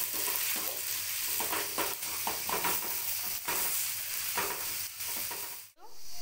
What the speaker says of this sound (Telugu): కొంచెం ఇది బాగా గోల్డెన్ కలర్ వచ్చే వరకు ఫ్రై చేసుకుందాం.